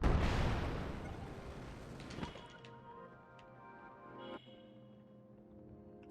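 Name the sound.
rocket shields firing in Tears of the Kingdom video game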